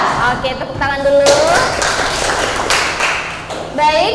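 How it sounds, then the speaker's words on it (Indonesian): A classroom of schoolchildren claps hands in a quick rhythmic burst, loud and close, with a teacher's voice speaking over and between the claps. "Oke, tepuk tangan dulu"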